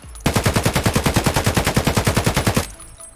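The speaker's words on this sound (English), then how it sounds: "And that is pretty much the recoil on the AK-103." Sustained full-auto burst from an AK-103 rifle in Escape From Tarkov, about twenty rapid, evenly spaced loud shots lasting over two seconds, then an abrupt stop into a quiet tail.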